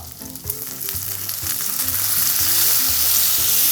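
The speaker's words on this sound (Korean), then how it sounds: "이 정도 지금 기름이 끓고 있는데 간장 넣으면 어떤 일이 생기겠나?" Soy sauce poured into boiling oil in a pan for spicy pork with green onion, giving a loud, close, continuous sizzle and crackle that swells as it goes.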